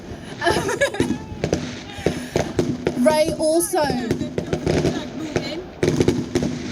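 Fireworks pop and crackle repeatedly outside during a protest at HMP Bronzefield prison. A speaker keeps addressing the crowd over the bangs.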